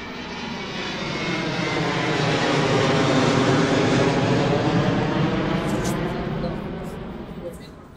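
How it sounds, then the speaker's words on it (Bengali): Airplane taking off as an audio drama effect: a loud, continuous engine roar that swells to a peak mid-way and then slowly fades as the aircraft climbs away. "ওদের ফ্লাইট উড়ল।"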